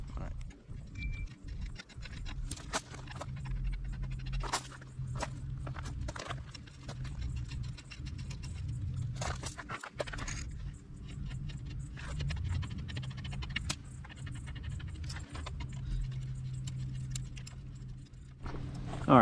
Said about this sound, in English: I'm gonna go ahead and change these pedals